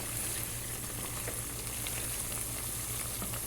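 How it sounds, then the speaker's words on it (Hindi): Spices and chicken frying in a handi while cooking Pakistani-style white karahi, a steady close sizzle with a low rhythmic bubbling underneath and no talking. "इन सब मिसालों को अब हम हांडी के अंदर ऐड कर देंगे, और अच्छे से मिक्स करेंगे और साथ ही पकने देंगे"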